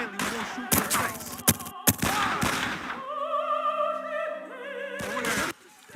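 Gunfire in the PS2 crime game Made Man: Confessions of the Family Blood, several sharp shots in the first half over dense game noise, then a steadier tonal bed of game music with a few more impacts near the end.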